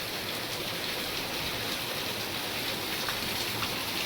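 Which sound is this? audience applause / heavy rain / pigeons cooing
heavy rain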